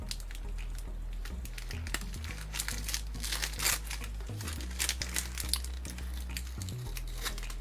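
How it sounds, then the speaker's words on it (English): Wax paper is peeled off a wax stamp seal with a close, busy crinkling and crackling, irregular bursts of rustle over a low background hum. "I'm just going to go ahead and remove"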